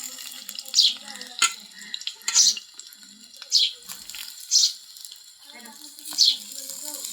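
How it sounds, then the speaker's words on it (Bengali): Eggplant slices fry in a pan, giving a steady low sizzle broken by about five sharp bursts of stirring or scraping at regular intervals. "এখানে বেগুনগুলো ভাজে নিচ্ছি"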